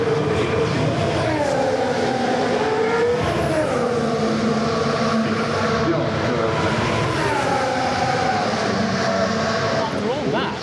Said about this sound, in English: I think the F3 car sounded gorgeous.